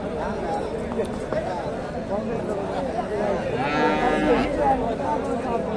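A bull and other cattle low and moo amid a busy crowd at a cattle market in Bogura, Bangladesh, with people talking over the animal sounds.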